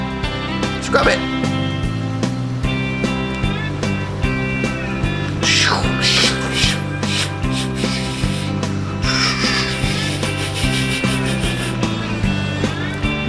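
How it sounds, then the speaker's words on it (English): A toy construction vehicle gets scrubbed back and forth in quick, rhythmic rubbing strokes under a cheerful voice talking, with music playing throughout. "Now we're gonna scrub it back and forth."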